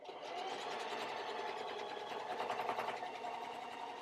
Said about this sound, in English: I'm going to stitch all the way to the other corner. And just use a straight stitch.